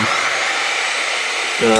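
A Bosch CGM12SD dual bevel sliding glide miter saw cuts, giving a loud, steady, close whine. A voice cuts in right at the end.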